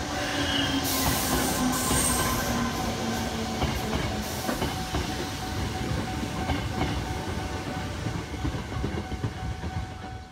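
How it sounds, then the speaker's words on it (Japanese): A six-car limited express train bound for Hanshin Umeda rolls into a station with a steady heavy rumble, rattling wheels and a faint high squeal, loud and continuous throughout. "阪神梅田行き直通特急が6両で到着します"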